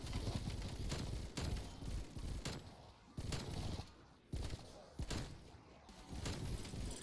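Diamatti three-round burst pistols fire in Black Ops zombies mode, repeated sharp clusters of shots in an uneven rhythm, loud and close with brief gaps between volleys and other game noise underneath.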